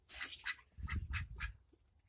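Ducklings quacking in a series of four or five short, separate calls with brief gaps between them, fairly close and moderately loud, with no talking.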